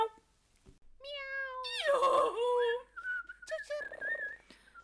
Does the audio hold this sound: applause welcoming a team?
no